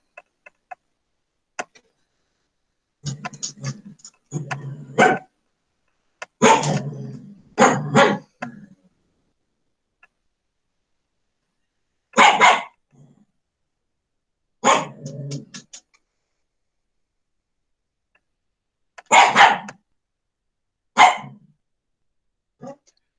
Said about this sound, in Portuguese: O cachorro hoje está atacado aqui.